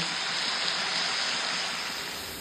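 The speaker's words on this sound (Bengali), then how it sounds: "চিংড়ি মাছগুলো ভেজে নিচ্ছি, হলুদ আর লবণ মাখিয়ে ভালো করে ভেজে নিচ্ছি।" Shrimp coated in turmeric and salt fry in a pan with a steady, dense hiss of sizzling oil, close and even throughout.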